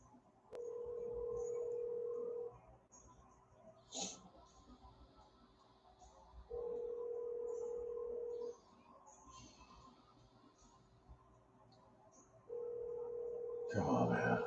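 A telephone rings out in three long, even tones with silent gaps between them while a call is placed, faint and steady, with a brief click partway through and a noisy burst at the end.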